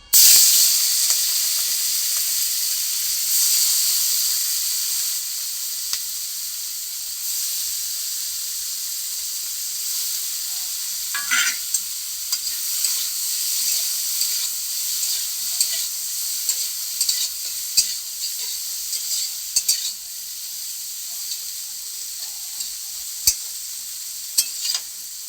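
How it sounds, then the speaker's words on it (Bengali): Prawns fry in a pan with a loud, steady hissing sizzle that runs throughout, broken now and then by faint stirring clicks and pops, with no talking. "এরপর আমরা চিংড়ি মাছগুলোকে ভেজে নিচ্ছি আগে"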